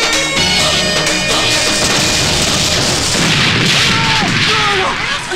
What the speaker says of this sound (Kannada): ಅದು ಭೂಕಂಪ ಅಲ್ಲ ರೀ, ಎದುರು ಮನೆಯವರು ಹೊಡಿತಾ ಇರೋ ಪಟಾಕಿ ಶಬ್ದ